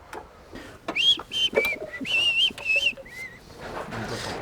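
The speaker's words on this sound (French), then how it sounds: "Je siffle dans le micro, impeccable." A person whistles a short wavering tune straight into a close microphone in a garage where a Peugeot 405 Mi16 is being worked on, the clear notes rising and falling in several phrases separated by brief breaths.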